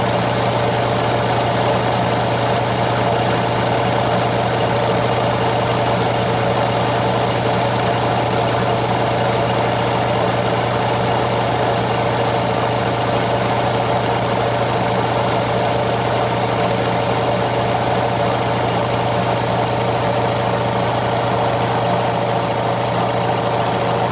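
A Craftsman 2 HP air compressor, fitted with a new pressure switch, runs in a garage with a loud, steady motor drone and hum that holds constant throughout.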